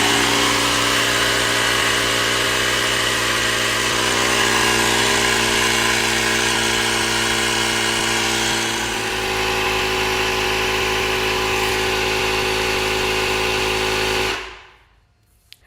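A Ryobi 18V ONE+ battery-powered compressor runs steadily at close range for about fourteen seconds while inflating a car tire to a set pressure, a loud droning motor hum that cuts off abruptly near the end. No voices.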